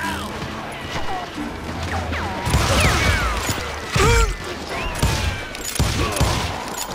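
A frantic Wild West gunfight in Call of Juarez: Gunslinger, loud close revolver and rifle shots with crashes and ricochets in a rapid irregular barrage, shouted voices mixed into the din.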